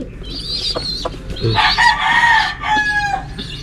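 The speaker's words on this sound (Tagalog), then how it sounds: "Pinapakain ko is pakain ng manok." Chickens clucking and a rooster crowing nearby, with busy overlapping bird calls throughout and a louder burst in the middle.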